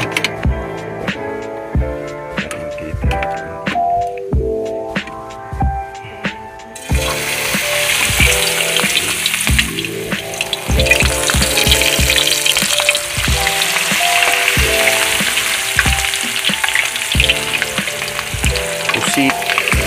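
Squid pieces fry in hot oil, a continuous crackling sizzle that grows denser and louder partway through, with occasional utensil clinks and stirring.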